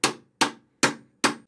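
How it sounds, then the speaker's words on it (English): Four evenly spaced, sharp metallic taps of a ball-peen hammer striking a car door hinge pin, each ringing briefly and close up, with silence between blows. "I'm going to see if a few well-placed taps of the ball-peen hammer will drive it through."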